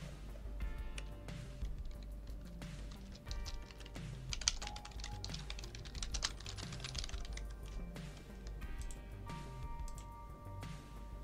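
Keys clatter on a computer keyboard in quick, uneven bursts of close, crisp clicks, with brief pauses between words and a low steady hum underneath.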